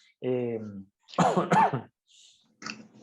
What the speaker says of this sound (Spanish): Todavía tiene tos.